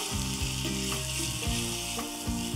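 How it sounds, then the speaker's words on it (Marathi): Ginger, red chili powder and ground coriander masala sautéing in a hot pan, a steady close sizzle with a few clinks of a stirring spoon against the metal, no voices. "आणि आता यामध्ये घालूयात चमचाभर हा मसाला, लाल तिखट, थोडीशी धनेपूड, परतून घेऊयात मसाला"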